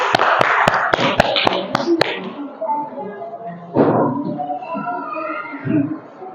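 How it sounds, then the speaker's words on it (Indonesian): Sharp, evenly spaced claps ring out in a classroom after a group presentation, about eight crisp hits over two seconds, followed by voices talking. "Iya, tepuk tangan."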